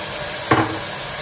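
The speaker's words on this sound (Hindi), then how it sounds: "इसी स्टेज पर मैं चिकन डाल देती हूँ" Raw chicken drops into a hot pan of garlic, ginger, tomatoes and green chillies with one sudden, close sizzling burst that quickly fades into a quieter simmer.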